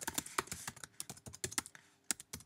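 Someone types a wireless security key on a computer keyboard, producing a close, rapid and uneven run of crisp keystrokes with short pauses and no talk.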